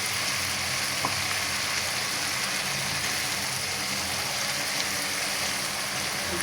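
Rupchanda pomfret fish frying in hot oil with cooked-down spice paste, a steady dense sizzle that fills the whole stretch without pause, loud and close, with no voices.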